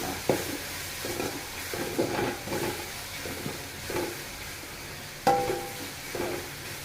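Masala for Chennai-style fish kuzhambu sautés in a pan while being stirred, with rhythmic scraping strokes over a soft sizzle and one sharper knock of the utensil near the end.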